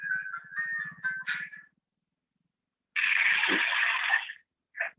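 A mobile phone rings during an online class: a warbling electronic ringtone plays for a bit over a second, stops, then returns as a longer bright tone burst and a short final chirp, with no talk over it.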